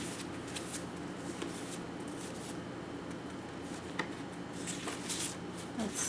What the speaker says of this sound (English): Let's pick a pretty card from here.